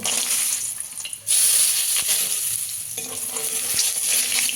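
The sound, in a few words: lentil dumplings (bori) frying in oil used for fish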